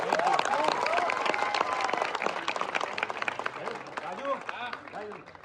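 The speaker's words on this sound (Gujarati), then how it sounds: "એક વખત બધા તાળીઓથી વધાવશે" An indoor audience at a special film screening for advocates in Ahmedabad breaks into sustained applause, dense clapping that swells, then gradually thins out and fades, with voices mixed in.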